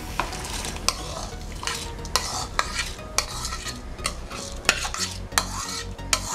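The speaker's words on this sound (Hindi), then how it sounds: "हमारे पानी में बॉयल आ चुका है, इसमें हम राइस ऐड कर लेंगे।" Rice goes into boiling water in a pot and is stirred, with repeated sharp clinks and scrapes of a utensil against metal over a soft bubbling, simmering hiss, close and fairly quiet, no voices.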